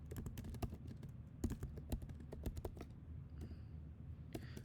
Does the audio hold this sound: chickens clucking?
no